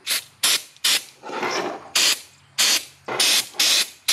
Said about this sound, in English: Hit it with some CRC electronic cleaner.